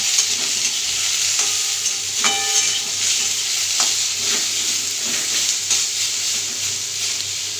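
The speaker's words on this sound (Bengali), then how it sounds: "আলু সেটা ভাজতে দিয়েছি" Potatoes fry with salt in a pan for a Bengali sukto, a steady loud sizzle with repeated scraping stirs of a spatula throughout.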